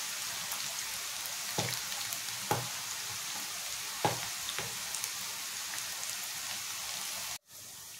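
Onion and cashew pakodi fry in hot oil, a steady, close crackling sizzle with a few sharper pops, running on alone before cutting off briefly near the end.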